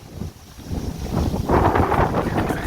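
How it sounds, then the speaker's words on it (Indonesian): Strong wind gusting over an open seaside spot near the ocean, a steady broadband roar that builds after the first second and stays loud and unbroken, with no voices. "angin di sini cukup sangat deras sangat kuat sekali"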